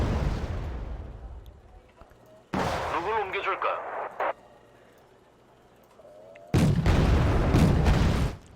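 In the Wargame: Red Dragon video game, a 25mm cannon fires two loud, sharp bursts several seconds apart, with quieter battlefield sounds between them.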